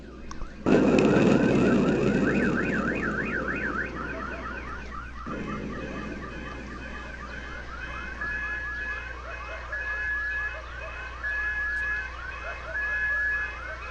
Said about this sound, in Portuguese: como esse no Canadá em janeiro de 2014, que ativou os alarmes dos carros